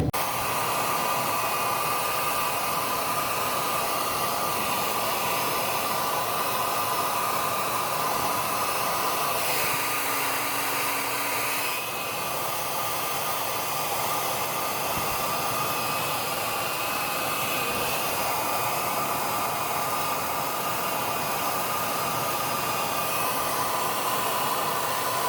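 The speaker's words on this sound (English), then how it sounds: "I'm going to use it with the hair dryer to defrost it faster" Hair dryer blowing onto the frozen coil of a Frigidaire Gallery refrigerator to defrost it, a steady close whooshing roar held for the whole stretch with a couple of slight dips in airflow.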